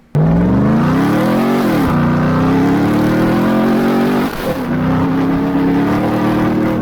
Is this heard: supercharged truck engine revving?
yes